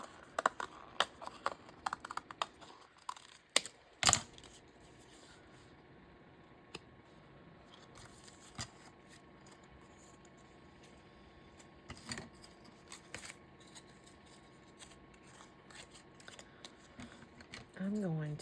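Scissors cut yellow paper in a run of sharp, close snips and crisp rustles, clustered at first and then scattered sparsely over a quiet background, with a brief voice near the end.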